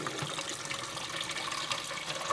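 Cold water pours over boiled eggs in a pot, a steady, close, hissing rush of liquid that runs unbroken throughout.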